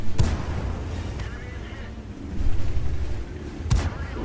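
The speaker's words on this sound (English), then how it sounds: "There's the kill shot. I shot him down." Tank cannon fire from a Comet in World of Tanks, a couple of heavy booming shots cracking out, one near the start and a louder kill shot near the end, over a rumbling engine bed.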